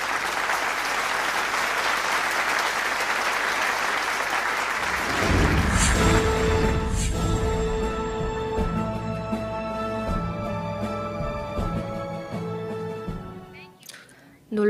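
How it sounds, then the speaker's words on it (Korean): Loud crowd applause at a large rally welcomes a pastor to the stage, a thick roar of clapping that fades after a few seconds as music with sustained tones takes over. "여러분 큰 박수로 폴라 와이트 목사를 모시겠습니다"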